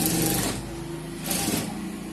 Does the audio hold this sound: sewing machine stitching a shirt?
yes